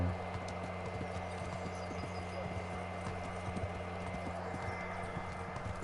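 Steady clip-clop of horse hooves at a trot in the video game Kingdom Come: Deliverance, close and even in rhythm, over a low droning background hum.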